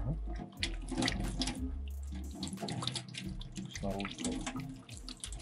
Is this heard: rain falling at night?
no